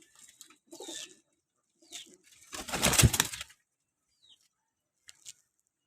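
Pigeons of a pigeon club cooing in soft, scattered calls nearby, broken by a short burst of wing flapping midway. A faint last coo follows near the end. No one speaks.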